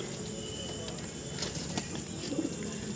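A pigeon gives a soft, low coo near the end, faint beneath a constant buzzing background and some light handling noise.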